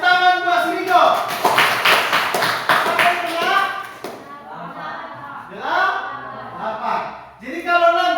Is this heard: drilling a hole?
no